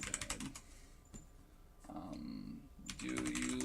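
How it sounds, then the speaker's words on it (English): Keys clicking on an Alienware AW768 mechanical keyboard with brown switches, in quick bursts of fairly loud, close typing separated by short pauses. "as far as clicking, this is definitely louder, but this is a brown key mechanical keyboard"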